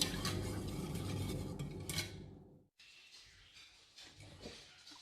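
A spoon or whisk stirs cake batter in a bowl for a raspberry mirror cake, scraping and clinking quickly. The stirring is loud and continuous at first, cuts off briefly, then returns as softer, scattered scrapes.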